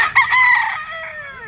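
A young yellow-legged rooster, a stag, crows loudly and close at a livestock auction market, one drawn-out cock-a-doodle-doo that trails off over about a second.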